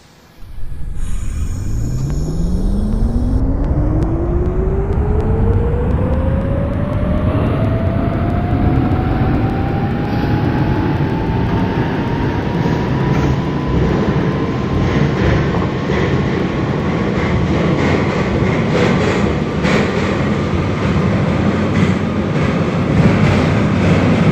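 A New York A train subway car bound for Far Rockaway accelerates from a stop, its motor whine climbing steadily in pitch over a loud, continuous rumble of wheels on rail that persists throughout, with no voices.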